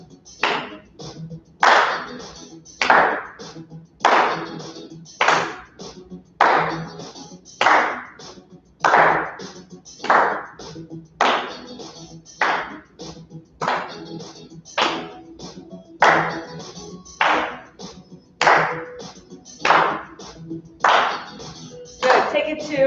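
A Tabata fitness class claps hands in a steady rhythm, about twenty loud sharp claps landing roughly once a second, with an instructor's voice faint between them.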